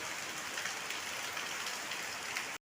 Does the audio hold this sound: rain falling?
yes